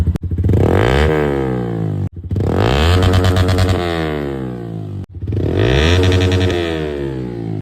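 Yamaha R15 V4 sport bike fitted with a Leo Vince GP Corsa exhaust, revved loudly three times in a row, each burst climbing sharply then dropping off, close up with no talk.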